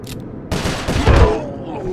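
Gunfire in the Sly Cooper: Thieves in Time river jailbreak level: a loud burst of rapid shots kicks in after a short lull and rattles on, mixed with game voices.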